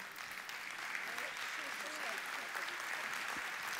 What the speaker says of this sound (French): Je vous demanderai d'applaudir vos présidents.